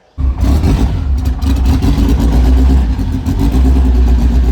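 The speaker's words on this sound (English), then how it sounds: "God, this thing sounds sick when it's cold." Lowered Honda Civic engine started cold, idling loud and close with a rough, throbbing low rumble and some clatter, steady after a sudden start.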